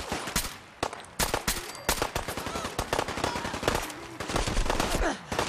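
Rapid automatic gunfire crackles in Fallout 4, sharp bursts and single shots overlapping in a dense, uneven barrage with brief pauses, loud and close throughout.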